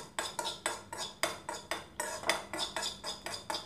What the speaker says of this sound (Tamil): இந்த பொரியிற சத்தம் கேட்குதா, இப்படி பொரியும் நல்லா